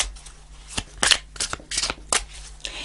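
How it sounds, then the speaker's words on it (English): Tarot cards riffled and shuffled by hand, a series of crisp papery bursts and soft slaps close to the mic in a quiet room, with no talking. "I'm going to shuffle for a bit longer."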